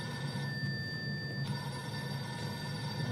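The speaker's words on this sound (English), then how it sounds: "Your phone's ringing." A phone rings during a village council committee meeting, a thin steady electronic tone sounding faintly in a room with a constant background hum.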